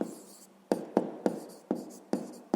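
A pen scratches across paper by hand in short, close strokes, about six distinct rhythmic scrapes with faint soft movement between them.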